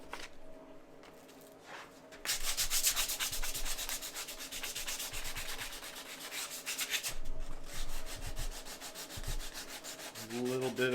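A steel axe head is sanded by hand with 80 grit abrasive in steady, close rhythmic back-and-forth strokes, quieter at first, then louder and continuous, ending with a brief knock.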